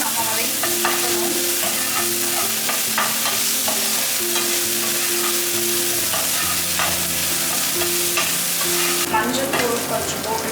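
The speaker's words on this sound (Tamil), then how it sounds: "இஞ்சி பூண்டு பேஸ்ட்டு இந்த ஸ்மெல் போகிற வரைக்கும் நம்ம வதக்கணும்." Ginger garlic paste sautéing with golden fried onions for home-made pepper chicken, a strong steady sizzle with repeated spatula stirring scrapes throughout, close and uninterrupted.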